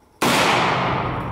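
A single loud gunshot from a powerful pistol in a ranch video game cracks out and rings into a long, fading noisy tail, with nothing else around it.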